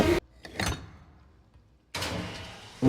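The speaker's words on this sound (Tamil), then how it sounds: "ஓகே, கதவு திறந்துருச்சு." Door opening in the survival horror game Resident Evil Requiem: a short sliding or swinging thud, then a quieter scrape around half a second in, a long silent gap, and a louder rumbling movement near the end.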